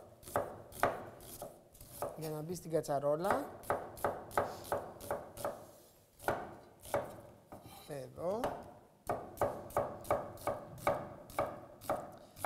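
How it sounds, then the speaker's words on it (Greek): Onion being sliced into rounds on a cutting board in a village kitchen, with steady, close knife chops in an uneven rhythm, a few clattering pot sounds, and a brief spoken remark near the end. "Και όσο κόβω εγώ το κρεμμύδι μου, θα το κόψω σε ροδέλες,"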